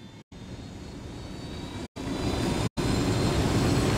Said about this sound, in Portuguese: Aqui está o helicóptero.